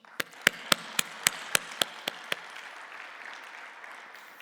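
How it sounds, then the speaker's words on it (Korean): A church congregation at a workplace mission gathering claps to give glory to God: about nine sharp, evenly spaced claps in unison, then a softer fading spatter of applause. "오늘 이 행사의 주인 되시는 하나님께 모든 영광의 박수를 올려드립시다."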